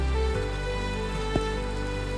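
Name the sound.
rain falling in the Himalayas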